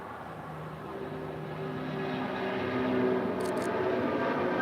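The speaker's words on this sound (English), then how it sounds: "Number 2 for departure here on the south side is the Air Canada A330-300. Now rolling down 25 right." An Air Canada A330-300 jet rolls for takeoff on runway 25 right at LAX, its broad, distant engine roar building slowly and steadily with a faint tonal hum.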